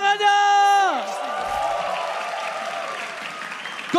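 An esports crowd at MPL Arena applauds and cheers during a Mobile Legends match, a broad wash of clapping that swells and then holds steady, following a sustained tone that falls away at the start.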